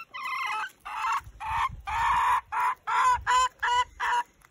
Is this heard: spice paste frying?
no